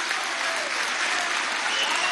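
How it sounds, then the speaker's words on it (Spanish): Audience applause for a woman at a workers' council gathering with Nicolás Maduro, a dense steady wash of clapping filling the whole stretch at an even, loud level with no pauses. "¡Un aplauso a esta mujer!"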